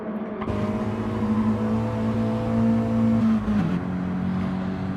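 Mini race cars in the P1RCs Mini Cup at Goodwood: a close, steady engine drone starting abruptly, holding a sustained tone, then shifting pitch briefly near the end as the car passes.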